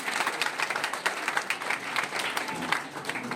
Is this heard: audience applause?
yes